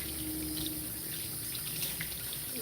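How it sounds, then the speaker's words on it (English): Water streams steadily over a dog as it is rinsed during a grooming session, a continuous close hiss and trickle with no pauses. "we're going to give the second rinse"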